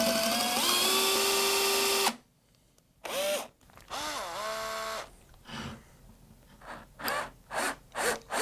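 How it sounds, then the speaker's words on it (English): A power drill fitted with a screw extractor bit drills out a stuck screw during a teardown of a Fanatec DD1/DD2 direct drive wheel base, first in one long steady whine, then in several short, rising bursts up close. "you drill a little pilot hole through the screw itself, and then you put the tip in and basically just drill it out"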